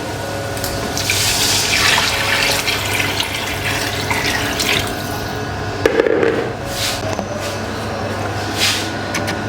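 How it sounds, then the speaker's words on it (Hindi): Water pours steadily into a cooking pot holding rice and chickpeas for chana pulao, a continuous close splashing and gurgling rush that runs alone for several seconds with a brief heavier splash partway through. "ये 4 गिलास पानी हम डाल रहे हैं जी।"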